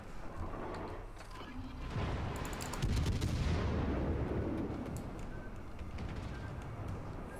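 Heavy cruiser guns fire in World of Warships as a deep booming salvo with a rolling rumble that trails off, heard over the game's background roar and a faint voice.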